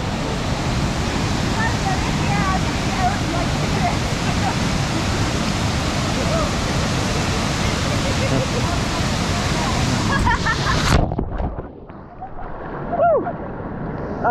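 Water rushes continuously and loudly at Kravice Waterfalls in Bosnia, a broad steady roar that cuts off sharply near the end, followed by quieter splashes and a brief voice.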